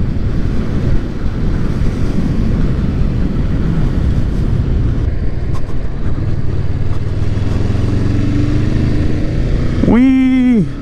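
Motorcycle engine pulling steadily in sixth gear at speed, a continuous low drone heavily mixed with wind buffeting on the microphone, ending with a brief louder rising whine as the throttle is opened.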